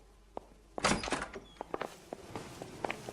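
A door opening in the crime video game L.A. Noire: a sudden close thud and rattle of the handle and frame, followed by scattered light footsteps and small knocks in a quiet room.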